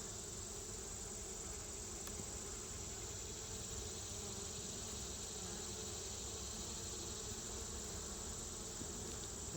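A steady, dense buzzing of many honeybees around a hive close by, constant and unbroken throughout with no voices.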